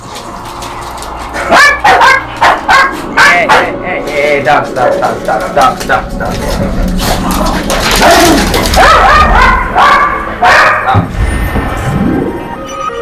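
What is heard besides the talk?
the speaker's pet dogs barking in the room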